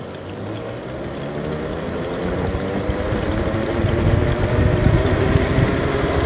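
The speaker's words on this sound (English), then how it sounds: "we can actually check how it accelerates" A three-wheeled electric bike capable of 70 km/h accelerates with a steady broadband rush of motor and wind noise that grows louder over the run, with no talking.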